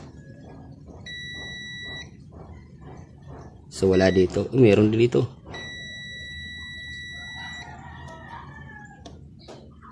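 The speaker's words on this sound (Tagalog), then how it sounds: "Nagbabuzzer siya." A continuity tester buzzer sounds while checking the shorted wiring of an electric fan with a blown thermal fuse, giving two steady, even tones of about two seconds each, with someone talking loudly between them over faint background noise.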